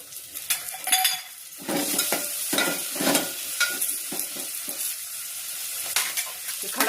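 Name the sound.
whole spices and chili roasting in a pan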